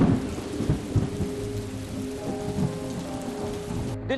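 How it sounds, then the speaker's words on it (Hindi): Heavy rain pours steadily over Delhi NCR as thunder rolls through a storm that followed a dust storm. Dense, continuous patter fills the scene while several low thunder rumbles rise and fade, fairly close, with no voices. "फिर झमाझम बारिश।"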